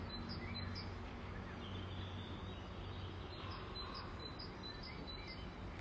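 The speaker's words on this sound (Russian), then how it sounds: "А птички поют бальзам на душу, на уши." Birds chirp faintly outdoors in the morning, with several short high tweets repeating over a steady low background rumble.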